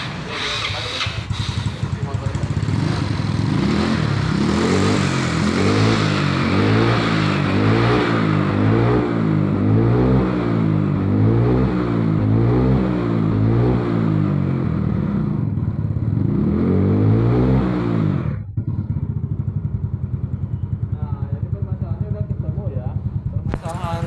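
A carbureted scooter engine with a worn vacuum slide needle, just repaired, revs repeatedly in rising and falling surges for about eighteen seconds, then drops back to a steady idle; the engine sounds loud and close.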